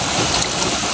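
Water from a roadside waterfall in Rolpa, Nepal rushes in a steady, dense broadband stream, loud and close with no breaks and no voices.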